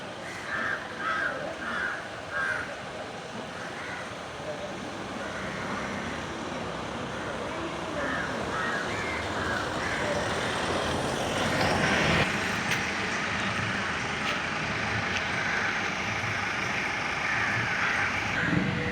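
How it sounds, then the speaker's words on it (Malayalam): Crows caw repeatedly, loudest in the first few seconds, over a steady wash of traffic and engine rumble at the Chunkappara bus stand entrance, with a broad roar swelling partway through. "ചുങ്കപ്പാറ ബസ് സ്റ്റാൻഡിലുള്ള പ്രവേശന കവാടമാണ് കേട്ടോ"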